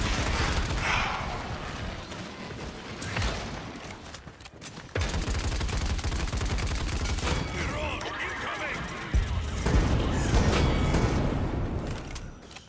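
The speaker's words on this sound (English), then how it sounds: "That's your barrage." Rapid barrage gunfire from Victor in the video game Paladins, a dense continuous burst of loud shots with booms, running under a player talking.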